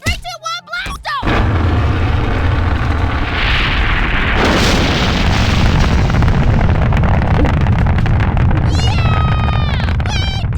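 A cartoon rocket blast-off explosion bursts in after a brief quiet start, a loud sustained roaring rush that swells mid-clip and holds steady, with excited cartoon voices and squeaky sounds over it near the end.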